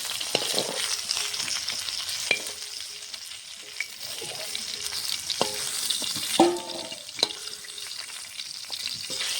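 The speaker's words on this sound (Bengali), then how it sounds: "লাল লাল করে মাছটা ভেজে নিয়েছি" Steady, crackling sizzle of rohu fish frying until browned in a pan, with occasional louder pops and the clink of a utensil against the pan.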